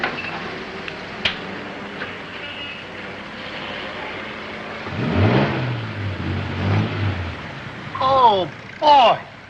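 An old car engine turns over and revs up in a comedy scene, rising and falling in a few surges before fading into brief raised voices near the end.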